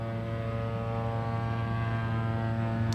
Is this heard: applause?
no